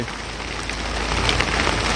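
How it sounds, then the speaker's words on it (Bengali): Heavy rain pours down steadily on a launch boat in the Sundarbans, a dense broadband hiss of drops drumming on a surface, close and loud throughout with no voices. "বৃষ্টির আওয়াজ শুনতে পাচ্ছেন"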